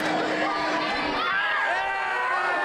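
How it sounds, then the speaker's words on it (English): At a professional wrestling show, the crowd jeers and shouts in disapproval, loud and continuous beneath a commentator's voice. "You can hear the crowd here. They do not like that."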